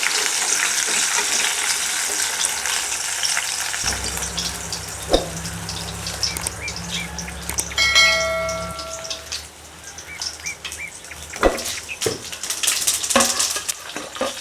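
Quail pieces for crispy kaadai 65 fry in a pan, giving a continuous crackling sizzle throughout, with a few metallic clinks of a utensil and a brief high whistle partway through.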